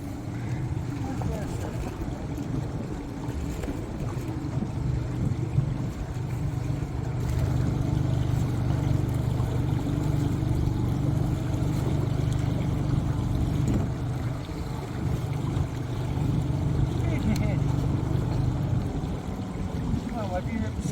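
A motorboat tender putters past in a marina, a steady low engine drone with wind and water noise, while people talk over it throughout.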